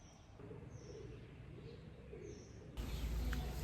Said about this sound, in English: these birds aren't helping